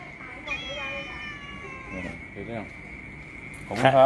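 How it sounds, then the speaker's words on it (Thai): A small kitten meows outdoors in the early morning. Several short, clear, close mews come one after another, with voices and faint insect chirps in the background. "มีแมวน้อยด้วยนะนี่"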